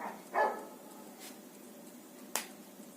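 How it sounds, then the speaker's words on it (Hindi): A dog barks in the background of a quiet indoor room: a short sharp bark, then after a pause a second brief, fainter yelp. "तब तक ये कुत्ता भी भौंक के थोड़ा शांत हो जाएगा।"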